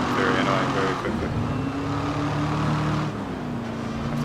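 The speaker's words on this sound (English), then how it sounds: "That wind noise gets very annoying very quickly." Wind rushing past a car at speed in the racing game Grid Autosport, a steady broadband roar blended with a droning engine note that runs without a break and dips slightly near the end, with talk over it.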